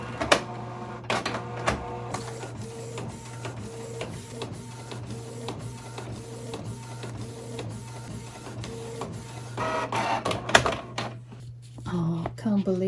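A printer prints an image for fabric, its head clicking in an even rhythm over a steady mechanical hum, close and clear, with a louder clatter near the end.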